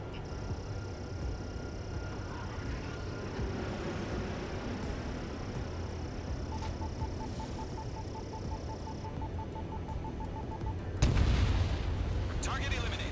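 Anti-aircraft guns in the jet combat game Ace Combat 7 keep up a dense, rumbling barrage under a steady electronic beeping tone, swelling into a heavier, louder burst near the end.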